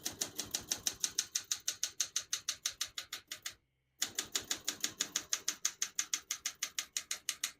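Keys strike steadily on a 1975 Olympia SM9 portable manual typewriter, a fast, even run of sharp clacks up close, broken by one short pause before the typing resumes.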